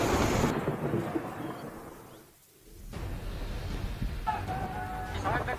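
Thunder rumbles over rain during a severe storm in Rajasthan. The storm noise is fairly quiet, drops away briefly in the middle, then returns with a faint bird call over it.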